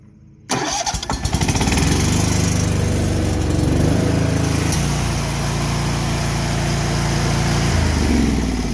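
A Bad Boy ZT Elite zero-turn mower with a 747cc Kohler 7000 Series engine and a replaced starter cranks and fires up, then settles into a loud, steady close running drone.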